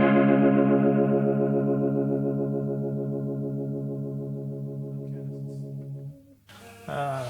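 A sustained electric guitar chord rings through a Strymon Lex rotary speaker pedal, its swirling chorus-like wobble fading slowly, before a short burst of brighter playing at the end.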